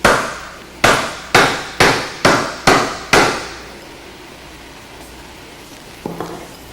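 A rubber mallet taps an alternator's rear bearing housing loose: seven sharp, evenly spaced knocks with short ringing decays, followed by quiet and a small clink of metal.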